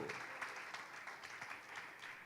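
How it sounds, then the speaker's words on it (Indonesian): Audience applause at an investment forum in Solo, Indonesia: quiet, even clapping from a crowd, a soft continuous patter with occasional louder claps, faint voices beneath. "Tepuk tangan untuk Solo."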